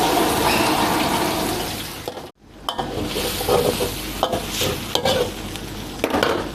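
Chili is stir-fried in a pan for Thai krapao, a loud, steady sizzle broken by a brief drop-out, then scraping spatula strokes and clanks against the pan over continued frying, close and without speech.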